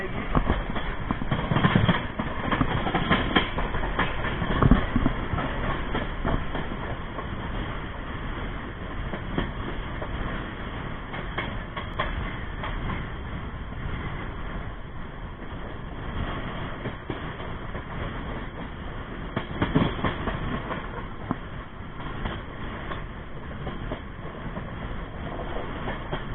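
Bhrigu Superfast Express running at about 130 km/h, heard from inside a 3AC coach as a continuous loud rumble with wheel clatter and rushing noise sustained throughout, rising slightly in places.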